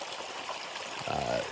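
Moving water of a stream in Alaska gives a steady broadband rush throughout, with a brief tonal sweep near the end.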